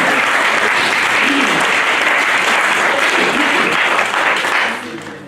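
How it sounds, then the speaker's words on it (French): A church congregation applauds and cheers, a loud, dense, continuous wash of clapping that fades toward the end. "On peut acclamer encore le Seigneur."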